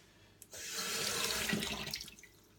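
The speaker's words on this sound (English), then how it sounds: "I'll just give this a little rinse." A kitchen tap runs steadily for about two seconds as blueberries are rinsed under it for a kale smoothie, a soft, close splashing stream that starts abruptly and fades out.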